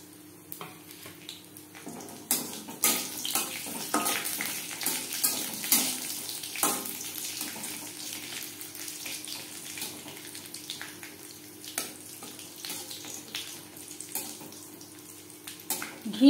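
Raisins fry in ghee in a pan over a low gas flame, a soft sizzle with stirring and scraping clatters throughout, fairly close and moderately loud.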